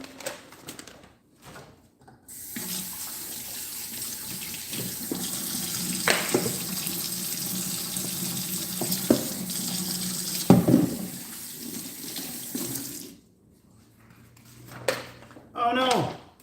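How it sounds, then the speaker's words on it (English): A kitchen tap runs steadily as hands are washed beneath it, with a continuous splashing rush and a few clinks, while a person talks over it. "I'm just going to wash my hands."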